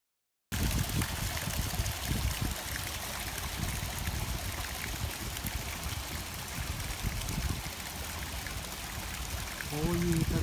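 A small waterfall trickles and splashes steadily close by, a continuous small flow with a soft gurgle, briefly silent at the start.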